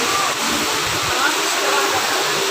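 Water pours steadily out of the Mina Tunnel waterfall in Barangay Cabeza, Trece Martires City, a continuous broadband rush with splashing, close and loud without a break.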